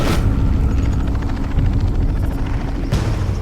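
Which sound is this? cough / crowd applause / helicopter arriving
helicopter arriving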